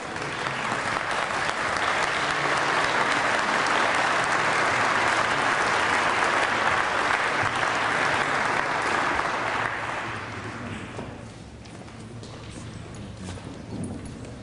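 A ceremony audience applauds the class of 1968 at a Fifty Year Club induction, a sustained roar of many clapping hands that holds loud for about ten seconds, then drops away to a thinner, quieter patter.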